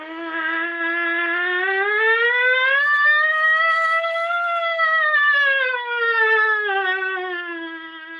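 Solo trumpet sliding in a slow siren glissando through quarter tones, rising steadily in pitch, peaking, then gliding back down in one continuous resonant tone, clear and close with no other sound.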